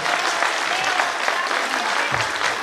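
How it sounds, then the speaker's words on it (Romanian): Audience applause for a child dancer at a folk festival, a dense, steady wash of many hands clapping throughout, loud and close. "Aplauze pentru tău."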